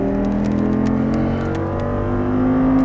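An Audi R8 engine hums steadily under throttle with a continuous low drone and tonal whir that rises slightly toward the end, with faint light clicks on top.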